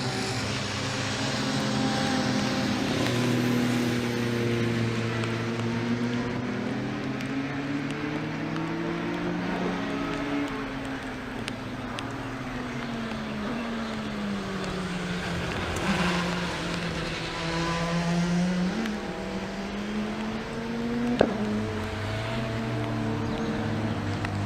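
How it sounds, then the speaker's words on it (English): A Skoda touring race car laps a circuit, its engine droning steadily with rising and falling pitch as it climbs through gears, loud and continuous without talk. "And here is the surprising little Skoda making its way around."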